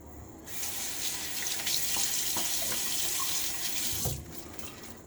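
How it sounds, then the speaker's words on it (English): Water runs steadily from a bathroom sink tap during a wet shave, a continuous hiss with brief splashing as water is cupped onto the face, fairly close and alone. "one more splash of water on my face"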